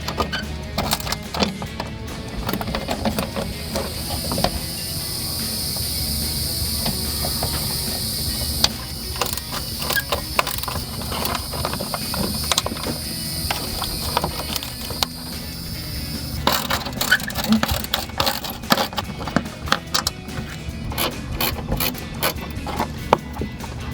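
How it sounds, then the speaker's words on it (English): An 8mm ratcheting wrench works the fender flare bolts on a Jeep Wrangler TJ, giving rapid ratchet clicks and mechanical rattling in irregular bursts, close and moderately loud with no talk. "I'm just going to use an 8mm ratcheting wrench."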